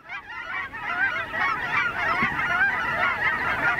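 A flock of Canada geese honks continuously overhead, a dense chorus of overlapping calls that stays loud and steady throughout with no talking.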